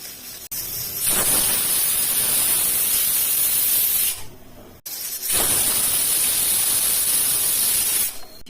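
A pressure cooker releases steam while palak paneer rice cooks, giving two long, loud, even hisses of several seconds each, close by, with a short break between them and no talk.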